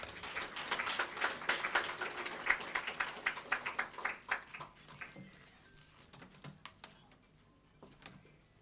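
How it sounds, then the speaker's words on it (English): Scattered clapping from a small audience at a memorial lecture, brisk at first and thinning into a few sparse claps toward the end. "Ms. Michelle, can we give her a warm round of applause?"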